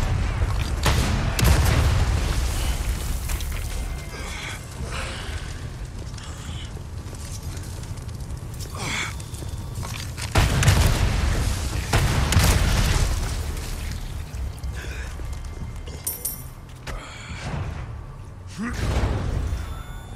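Rocket launcher blasts in Resident Evil 4 Remake: several deep, booming explosions with rumbling tails, spread over a dense, loud game soundscape, with heavier bursts near the middle and the end.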